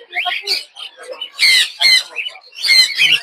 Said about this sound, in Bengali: বাজিগর পাখি